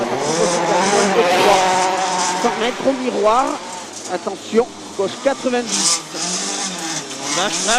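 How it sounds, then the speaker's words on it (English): A WRC rally car spins out at Rally Japan 2008, its engine revving and wailing up and down in pitch beneath an excited commentator's voice. "Oh, but a spin for Sebastian."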